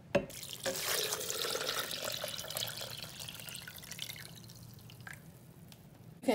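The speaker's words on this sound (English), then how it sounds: "We're going to add our water." Water pours steadily into a raspberry lime drink made with sea moss, a continuous close splashing stream that fades out near the end.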